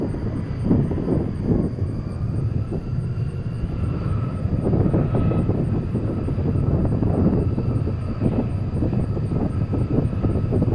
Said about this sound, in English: We have Iberia taxiing our way.